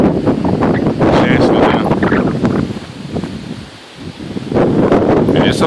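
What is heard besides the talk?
high wind during a fast-moving storm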